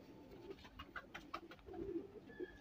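Ferozpuri male pigeon cooing softly, a run of low, rolling coos repeated close by in a quiet space with no talk.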